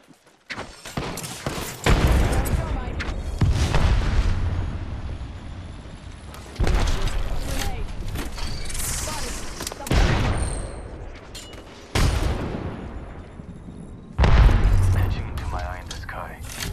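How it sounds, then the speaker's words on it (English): Gunfire in Apex Legends with loud, booming blasts at intervals, one fitting a thrown grenade exploding, amid bursts of shots and a voice speaking at times. "Throwing grenade."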